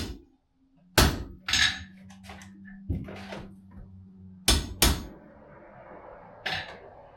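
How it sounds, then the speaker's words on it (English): A blacksmith at a 19th-century historic village hammers two fluxed metal pieces together before forge welding, giving sharp, ringing metallic strikes in an irregular rhythm with short gaps of near silence between blows. "And then I pound it back together or pre-weld."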